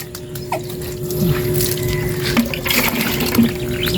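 Water runs and splashes steadily at close range while Mary is bathed, with a few small knocks and clatters over the flow.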